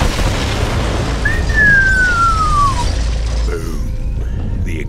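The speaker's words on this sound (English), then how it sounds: "Boom. The explosion." Set bombs exploding in the video game Borderlands 3, a loud rumbling blast with a long falling whistle through the middle before fading.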